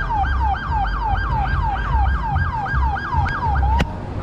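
Police sirens from arriving cop cars on a street at night, a loud wailing yelp that cycles rapidly and evenly over engine rumble, with a sharp click near the end and no talking.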